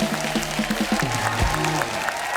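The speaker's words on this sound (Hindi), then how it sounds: "ये इनके लिए भी जोरदार तालियां।" Studio audience applause on the grand season finale of a Hindi comedy talk show, clapping mixed with a sustained musical tone and a sliding low note, fairly loud throughout.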